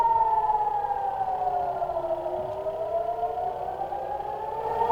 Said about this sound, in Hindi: आपसे बात करते समय हमने सायरन की आवाज सुनी थी और अब आप आवाज सुनिए